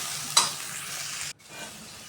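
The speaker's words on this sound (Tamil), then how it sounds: "எண்ணெய் ஊற்றி நல்லா வதக்கணும்" Steady broadband sizzle of food frying in hot oil, with a brief stirring scrape near the start and a short drop-out before the sizzling resumes.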